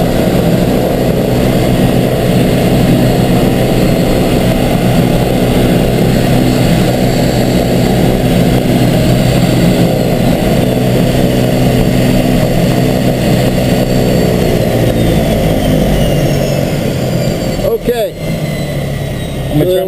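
A twin turboprop King Air U3A starts up, heard from the cockpit as a loud, steady engine and propeller drone with layered whine tones that holds throughout, with people talking over it.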